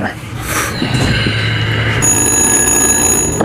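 A telephone rings with steady high electronic tones that set in partway through and hold to the end, fairly loud amid background sound.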